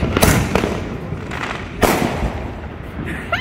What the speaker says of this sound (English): so that we'll see the beauty of the fireworks